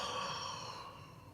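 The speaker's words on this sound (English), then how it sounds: "That was heavy breathing." Heavy breathing close to a microphone on a comedy podcast: a faint, airy rush of exhaled breath lasting about a second and a half, with no talking.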